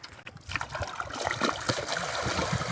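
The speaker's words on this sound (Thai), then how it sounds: "น้ำไหล" Water trickles and splashes while a fisherman digs for eels in underground holes along a lakeshore, a close, uneven dribbling flow with sloshing bursts.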